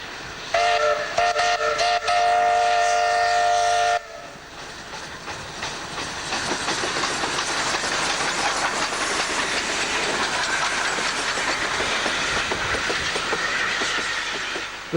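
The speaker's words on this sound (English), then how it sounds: "Double heading with Hotham Valley's PM 706, the train heads south through Yarloop to Harvey." A double-headed steam train led by PM 706 passes south through Yarloop, its whistle sounding in clear harmonic blasts before the engines and wagons roll by in a loud, steady rumble with rail clatter.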